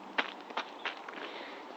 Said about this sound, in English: it's been hail storming, but it's like stuck to the ground, so it makes a crunching sound.